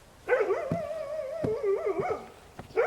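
A dog barks and yelps in a French television series, a sustained, wavering whining bark followed by short sharp barks, close and loud with no talk over it.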